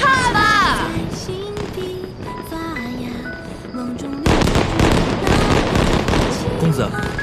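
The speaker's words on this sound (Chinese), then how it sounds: "这全大爷最新奇的烟花都被我给买过来了，慢慢看吧" Fireworks go off at a night display in a period drama, with loud bursts and crackling that build to a dense barrage, heard under a music score and speech.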